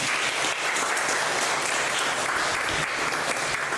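Church congregation applauding a young couple and their baby on a return visit, a dense, steady crackle of many hands clapping throughout, loud and full with no pauses.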